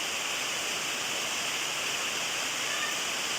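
Heavy rain pours steadily outside, a dense, even hiss with no breaks and no voices.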